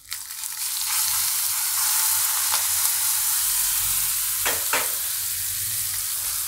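Hot spice tempering with asafoetida and curry leaves is poured onto curd for curd rice, giving a loud close sizzle that starts abruptly and hisses steadily, with brief stirring clatters, and no talking.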